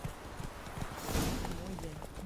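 Horse hooves clip-clopping in The Witcher 3, a faint rhythmic hoof-fall on ground under a low wash of ambient noise, with a voice speaking over it.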